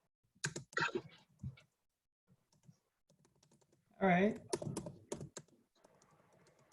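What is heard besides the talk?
typing on a computer keyboard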